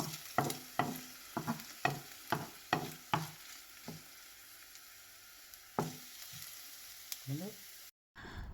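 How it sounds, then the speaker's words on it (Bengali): A spatula scrapes and stirs coconut frying in a little oil in a wok in a quick series of strokes, with a soft sizzle underneath and pauses between. "এখন কড়াইয়ের মধ্যে অল্প তেল দিয়ে নারকেলগুলো ভেজে নিচ্ছি"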